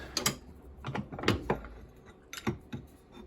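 A socket ratchet clicks in short bursts while tightening on a Bosch washing machine motor, close and uneven, with small metallic knocks and handling noises between the pulls.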